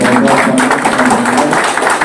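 Dense crowd applause for local party officials at a political meeting in Delhi, a steady wash of many hands clapping at full loudness throughout, with a faint hum underneath.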